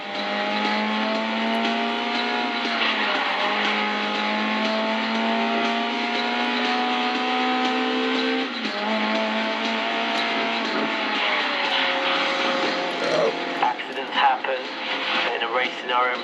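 Race car engine in the Grid Legends racing game, droning steadily with rising revs through the gears, a brief shift dip midway and some scrabbling toward the end, loud and continuous throughout.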